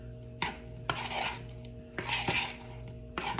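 A utensil scrapes and clinks against a bowl while seasoned, still slightly damp food is stirred, with repeated short taps and rubbing strokes over a steady low hum, and no talk.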